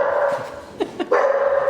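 A dog gives a couple of short, sharp barks close by, over a steady background hum.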